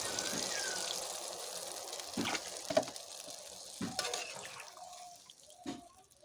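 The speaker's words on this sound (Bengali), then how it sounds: "এবার আমি জল দিয়ে দেব আমি এখানে গরম জল ইউজ করছি" Hot water poured into a pan of potol dorma, stuffed pointed gourd cooked with prawns, giving a gushing splash at first and then fading into scattered drips and clinks.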